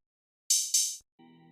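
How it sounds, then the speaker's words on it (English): An open hi-hat sample for a trap beat in FL Studio, struck twice in quick succession with a bright hissing decay, alone and fairly loud, followed by a faint short tonal blip. "what I'd like to add next is the open hats,"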